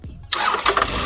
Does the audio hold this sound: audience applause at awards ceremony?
no